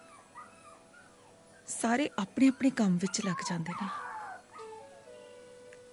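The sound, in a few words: puppy whimpering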